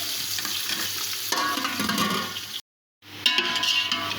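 Onions frying on a low flame for chicken biryani, a soft continuous sizzle with stirring and scraping in the pan, cut by a short silent gap before the sizzling resumes.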